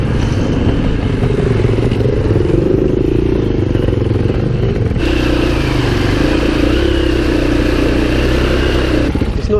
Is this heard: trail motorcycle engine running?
yes